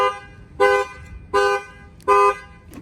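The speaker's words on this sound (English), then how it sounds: "And that will trip the alarm." A Ford truck's alarm sounds three loud, steady horn blasts at an even pace, each lasting about a third of a second, with short quiet gaps between them.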